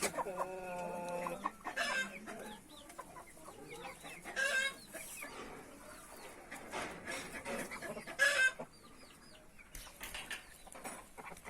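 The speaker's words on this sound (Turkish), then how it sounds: "Hindiler ve tavuklar bir arada." Hens and roosters cluck and call repeatedly at close range, with a rooster crow early on and bursts of clucking and a brief flutter of wings.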